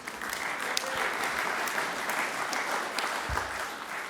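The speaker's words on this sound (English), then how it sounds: "Give him a round of applause." An outdoor crowd at an Irish flag raising ceremony at Paterson City Hall applauds steadily, a continuous wash of clapping with a few louder claps and a soft thump near the end.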